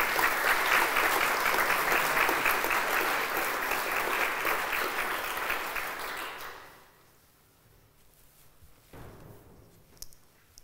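A church congregation at a parish rededication service breaks into sustained, loud applause that fills the room for about six seconds before fading quickly into quiet hall ambience.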